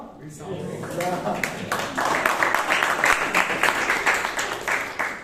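Audience applause at a Toastmasters club meeting in Bangalore, a steady patter of many hands clapping at moderate loudness for about five seconds, with voices mixed in.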